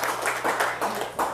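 An audience at a village gathering with an Indonesian parliament member claps together in short bursts, a handful of close, fairly even clap volleys over about a second and a half.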